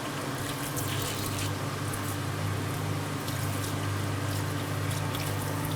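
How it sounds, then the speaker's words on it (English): A water spray pistol rinses cutting residue from inside a Discotom cutting machine in a sample preparation room, giving a steady, loud hiss and splash of spraying water that holds without pause throughout. "You can clean everything inside here, rinse away all the cutting residuals."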